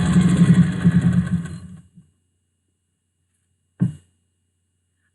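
Sewing machine stitching cotton face masks, a close rapid mechanical whirr for about two seconds, then silence broken by one short clunk.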